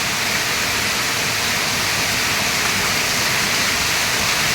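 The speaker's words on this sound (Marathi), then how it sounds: "आवाज बघा पाण्याचा नुसता" Rainwater rushes down in a torrent like a waterfall during a heavy Mumbai monsoon downpour, making a loud, steady broadband roar that fills the whole stretch with no voices.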